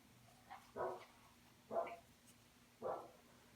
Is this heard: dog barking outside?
yes